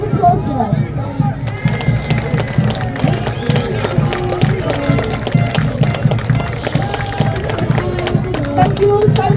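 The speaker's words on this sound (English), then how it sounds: "can we please have a round of applause for them?" An audience gives a dense round of applause, steady rapid clapping from many hands with crowd murmur and voices mixed in, loud and continuous throughout.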